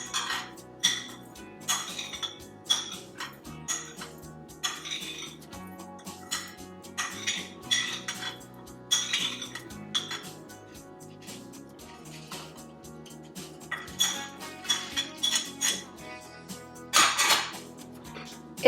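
Cooled Kashmiri dum aloo masala spices being crushed in a hand pounder, with steady repeated metallic thuds and clinks at an uneven rhythm, close and fairly loud.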